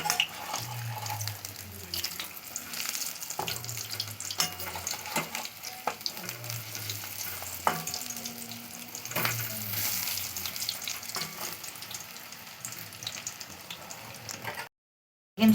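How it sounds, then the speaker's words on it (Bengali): Cauliflower pakoras and begunis deep-fry in hot oil with a steady, crackling sizzle, punctuated by soft stirring knocks and low bubbling, before a brief drop to silence at the end. "প্রথমে কিন্তু হাই ফ্লেমে তারপরে লো টু লো ফ্লেমে রেখে কিন্তু এগুলোকে ভাজতে হবে তেলে"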